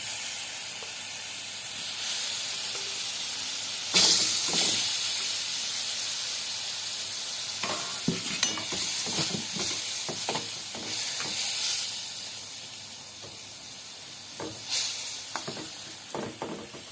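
Fish pieces dropped one by one into hot oil in a frying pan for a green curry, giving a steady loud sizzle with sharp spattering bursts as each piece goes in.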